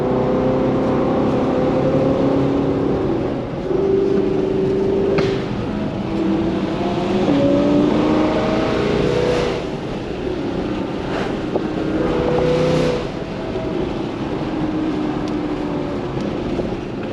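A twin-turbo 2024 Mustang driving through the mountains, its engine a steady droning roar with rising and falling revs as it accelerates, mixed with constant wind rush.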